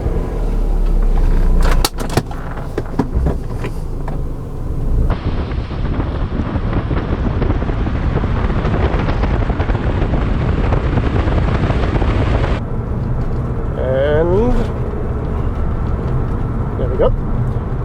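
A VW New Beetle 1.8 Turbo cruises at 80 on a road with a steady, loud engine and road roar mixed with wind buffeting, continuous throughout with a few thumps.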